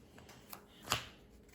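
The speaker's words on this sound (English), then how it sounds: "Shuffle the discard pile, reveal 3 cards." A pile of cards is shuffled for the board game Dead Man's Draw, giving a brief, close riffle with a sharp flurry near the middle and no talk.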